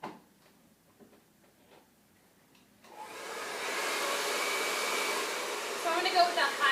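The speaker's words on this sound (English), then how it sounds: "So I'm going to go with a high heat on this and my smaller airflow." A hair dryer on high heat with a small airflow nozzle switches on after a few quiet seconds of faint handling clicks, then blows in a steady, close, loud whoosh that shifts slightly as it moves through hair.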